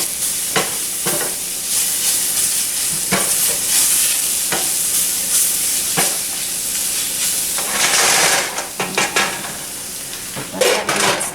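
Pork chops sizzle gently over lowered heat in a pan, with a steady frying hiss broken by repeated clinks and scrapes of a utensil against the pan.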